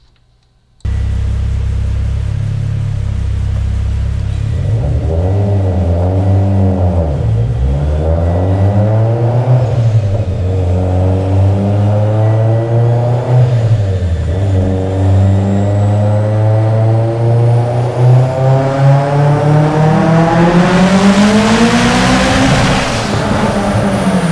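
A Mitsubishi Evo X with a Garrett G35-1050 turbo, Kelford cams and an Ecumaster ECU revs hard during boost tuning. It bursts in after a short silence, then climbs and drops several times in loud sweeping pulls, ending on a high-pitched rising whine.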